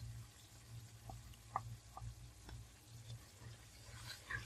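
Beaten egg cooks in a pan of fried masala with chopped green chilies, giving a soft, steady sizzle with occasional stirring clinks and scrapes, fairly faint and close.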